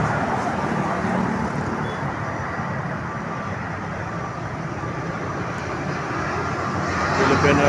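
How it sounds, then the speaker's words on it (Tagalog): A Philippine Airlines airplane landing: a loud, continuous broadband roar of jet engines and rushing air that holds steady and swells slightly toward the end. "Lapag na ang aeroplano."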